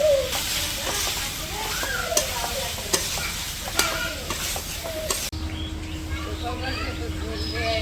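Potatoes, eggplant and tomatoes frying in a pan in a village kitchen give a loud continuous sizzle with spatula scrapes and knocks, while faint voices and a clucking chicken sound in the background.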